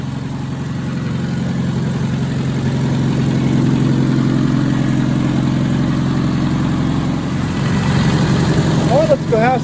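Vintage farm equipment engine idling outdoors, a steady, close low chugging drone that holds evenly throughout, with a faint squeak near the end.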